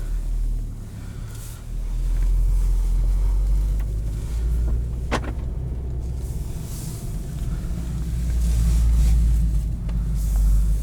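A 2019 Volkswagen Golf R with DSG gearbox driving in Race mode, its engine a loud steady low rumble from inside the cabin, swelling as it accelerates, with a brief sharp click midway.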